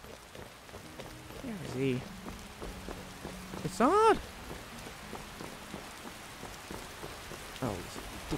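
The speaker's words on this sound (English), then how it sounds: "Rain now as well." Steady rain patters down in Skyrim Special Edition, a continuous wash of drops heard close, while a voice calls out a name over it.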